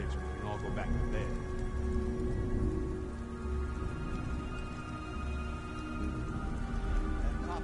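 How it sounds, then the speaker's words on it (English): Rain falls steadily in the video game Beyond: Two Souls, a dense continuous patter with low rumbling underneath and no break across the scene. "Goddamn rain."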